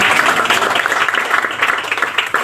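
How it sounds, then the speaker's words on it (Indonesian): A church congregation claps for the glory of God after a testimony, fairly loud uneven applause whose individual claps stand out in a loose rhythm, swelling and dipping slightly across the short stretch. "Beri tepuk tangan bagi kemuliaan Tuhan"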